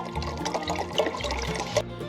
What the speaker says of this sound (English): we want to add the rest of our stock that we're going to be using to this pot